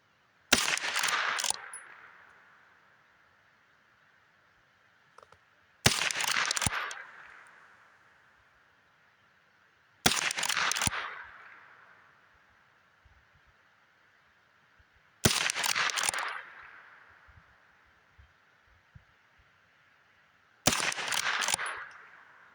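Five sharp rifle shots from a Winchester Model 9422 at an outdoor range, evenly spaced about five seconds apart, each loud crack trailing off into a ringing decay before near silence.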